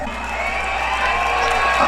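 A large outdoor rally crowd in Berlin keeps up a dense, steady roar of cheering and shouting for a couple of seconds, close and loud with no break.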